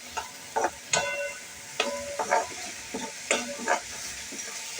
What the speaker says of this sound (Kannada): ಉಳ್ಳಾಗಡ್ಡಿ ಎಲ್ಲ ಫ್ರೈ ಮಾಡ್ಲಾತೀನಿ